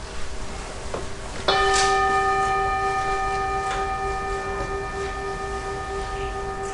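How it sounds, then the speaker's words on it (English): A single bell strike rings out clearly, its bright tone lingering and slowly fading over several seconds in a quiet room. "we meditate on the sound of the bell"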